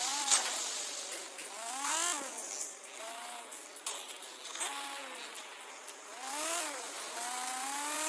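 A car engine in the Gangstar Vegas video game revs up and eases off again and again, a moderate whine rising and falling through the whole stretch with no talk over it.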